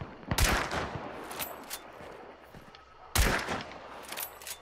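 Gunfire in the video game Hunt: Showdown: two sharp, loud shots about three seconds apart, each with a ringing, echoing tail over a low ambient rumble, with no voices.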